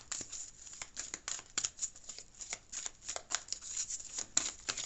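Tarot cards are shuffled and drawn, producing a close, quiet run of rapid papery riffles and flicks in an uneven rhythm, with no other sound.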